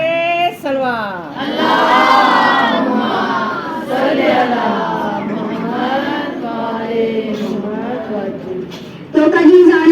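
A crowd at a majlis chants salawat in unison, loud and sustained voices rising and falling in long phrases, with a brief break and a fresh swell of voices near the end.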